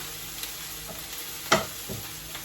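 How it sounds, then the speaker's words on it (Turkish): Garlic and onion sauté in a thin layer of oil, giving a steady, faint sizzle with an occasional sharp utensil clink and scrape against the pan. "Şimdi sarımsakla soğan kavruldu ama bu ara yağ ayarlayamıyorum."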